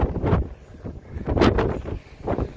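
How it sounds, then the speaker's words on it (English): Storm wind gusts outdoors on a wet, snowy farm while cattle are being hauled, buffeting the microphone in loud rumbling surges that rise and fall several times in quick succession. "It's still freaking storming."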